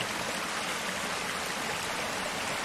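Undikuristik waterfall on its stream, water cascading over a bedrock outcrop, a steady, dense rushing roar that stays constant and close throughout, with no voices.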